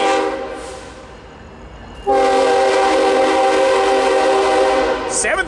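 A freight train's horn blows loud and sustained, nearby at Sorrento Valley, San Diego, with Warbonnet-painted locomotives leading; a softer rumble of rail traffic comes first, then the horn holds steadily for several seconds.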